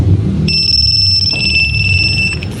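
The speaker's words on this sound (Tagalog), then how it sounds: "maingay yung alarm mga sir" A motorcycle anti-theft alarm sounds from its remote on an Aerox V1 scooter setup, a loud steady high-pitched electronic tone with a higher whistle over it, held continuously over a low background hum.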